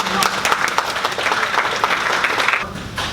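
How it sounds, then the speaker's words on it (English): Audience at an annual agency relations meeting breaks into a round of applause, a dense, steady clatter of many hands filling the room for about three seconds before tapering off. "let's give yourselves a round of applause"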